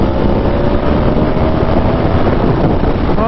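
An Aprilia Tuono motorcycle with a Gabro Racing Team tune cruises on a highway in sport mode under partial throttle, its engine drone buried in heavy, constant wind roar that stays loud and close throughout.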